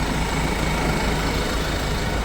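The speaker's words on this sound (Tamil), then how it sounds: "இன்ஜின் பாருங்கள் சவுண்ட் எப்படி இருக்குன்னு." A Deutz-Fahr Agrolux 80 CRDi four-wheel-drive diesel tractor engine idles close by, a steady low rumbling drone with no pauses.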